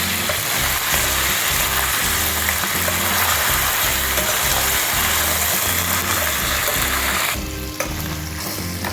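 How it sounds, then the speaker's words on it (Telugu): Curry leaves and ginger garlic paste fry loudly in a hot pan, a dense continuous sizzle with occasional stirring scrapes, the crackle easing slightly near the end; no voices. "కరివేపాకు వేస్తున్నాను చూడండి అలాగే అల్లం వెల్లుల్లి పేస్ట్"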